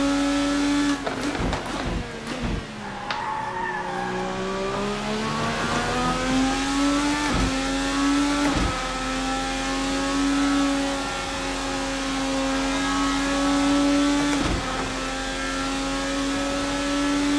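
Open-wheel 2020 IndyCar engine in Assetto Corsa, a loud high-pitched drone rising and falling with revs through upshifts and downshifts, several sharp shift blips punctuating a steady near roar.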